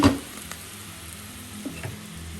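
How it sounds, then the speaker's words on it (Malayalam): Thinly cut radish stir fry gets stirred in a hot pan, a soft steady sizzle with a few light scraping clicks from the spoon, close and brief. "എല്ലാം ഒന്ന് ഇളക്കി കൊടുക്കാം."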